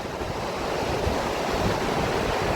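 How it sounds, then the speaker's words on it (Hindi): Rushing river water roars steadily at the Keshav Prayag confluence of the Alaknanda and Saraswati rivers near Mana village, a loud, constant wash mixed with wind buffeting the microphone. "यहाँ से राइट में अलकनंदा नदी आ रही है और मेरे लेफ्ट में सरस्वती रिवर।"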